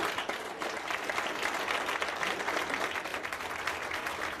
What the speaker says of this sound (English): Cyclists and other opponents of the proposed ordinance all clapped after it failed in a 3-2 vote